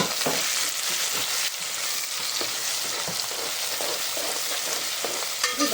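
Onions fry in hot oil in a pan for prawn biryani, a loud, steady sizzle with occasional stirring scrapes, close and continuous without talk.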